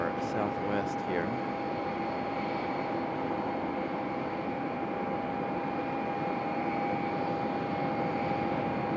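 A Southwest airliner jet at Raleigh-Durham airport roars in a steady, broad wash of engine noise that holds at an even level throughout, with a faint tone running through it.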